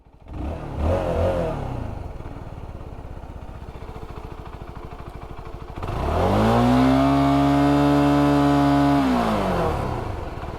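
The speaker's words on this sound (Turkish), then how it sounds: "Gördün mü fan açtı. 90 derecede fan açıyor." A Dominar 250 motorcycle engine idles steadily, then the radiator cooling fan kicks in at 90 degrees with a loud, sustained whirring hum that holds for several seconds before easing off.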